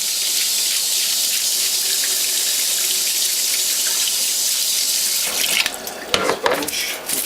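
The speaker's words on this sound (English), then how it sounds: "Either with a wet towel or a spray nozzle like I'm using, clean the front, then reassemble" Water from a spray nozzle rinsing the front cover of a juicer, a steady close hiss of running water that breaks into uneven splashing and spattering near the end.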